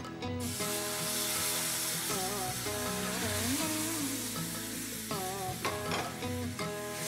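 Melted jaggery is poured into a kadhai and stirred for ragi kheer, giving a continuous sizzling, scraping stir under a steady bed of melodic background music.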